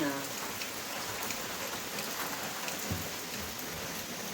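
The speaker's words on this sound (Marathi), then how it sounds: "पाऊस सध्या चालू झाला बारीक बारीक बघू शकता." Light rain falling steadily outdoors near a rice-field planting site, a continuous soft patter of drops across a wide area, close and even, with no talk over it.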